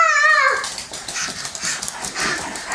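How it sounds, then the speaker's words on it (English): A dog gives a short high whimper that rises then breaks off, followed by softer yips and snuffling sounds close by, with light background noise. "Is that the sound the dog makes?"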